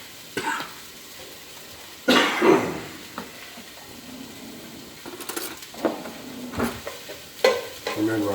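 Onions and garlic frying in a pan, bursts of sizzling and stirring scrapes coming in irregular waves, with a cough-like sound among them.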